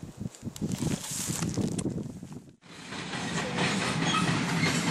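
A train passes close by outdoors with loud, rhythmic clickety-clack of wheels on rails and rushing rumble, dropping out briefly midway before roaring on steadily.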